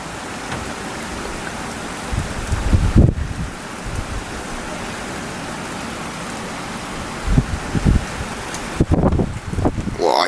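Heavy storm rain and gusting wind during a violent summer thunderstorm in Gironde, France, a steady broadband roar of downpour with stronger wind bursts near the start and end.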